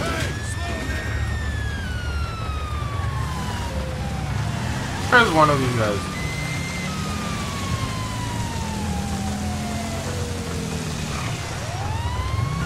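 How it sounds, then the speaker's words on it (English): In GTA V with the LSPDFR police mod, a police car siren wails continuously in rising and falling sweeps behind someone talking, with a brief warbling yelp partway through. "My freaking siren sounds horrible."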